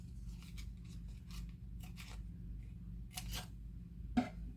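Paper being cut with scissors for a crafts project: faint, sparse snips and rasping strokes, with a slightly louder snip near the end over a low steady background hum.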